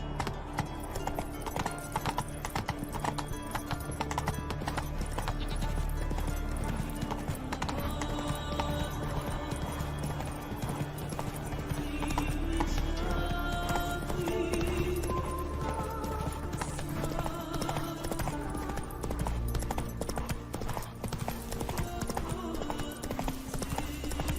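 Roach, a horse in The Witcher 3 video game, clip-clops along in a steady rhythmic gait with an occasional whinny, close and continuous over game music and ambient sound throughout.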